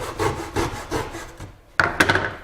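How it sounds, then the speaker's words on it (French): A hand saw cuts through a cardboard tube in steady back-and-forth strokes, each rasping pass close and distinct, ending with a couple of sharper scraping strokes after a brief pause. "Vous la laissez travailler, cette scie."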